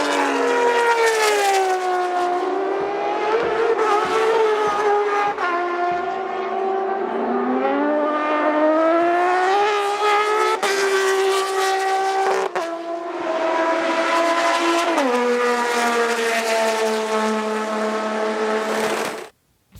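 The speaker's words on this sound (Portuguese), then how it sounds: "os Falcons de turismo carreteira produziam um som agudo, metálico e feroz" Ford Falcon Turismo Carretera race car with a six-cylinder engine, roaring loud and close with a sharp, metallic, high-pitched note that climbs and drops through repeated rev changes, with no voices.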